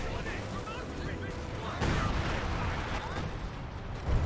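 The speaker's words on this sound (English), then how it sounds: "Officer artillery running on him once again." An officer-called artillery barrage in Company of Heroes 2 rumbles with continuous booming blasts and crackling gunfire, dense and loud throughout, under a commentator's voice.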